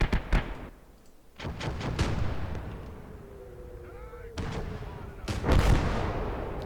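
US artillery strikes in Call to Arms: Gates of Hell, during a Germany-versus-USA conquest match, land as several heavy booming impacts, one preceded by a thin descending whistle, with a low rumble between blasts and a little talk.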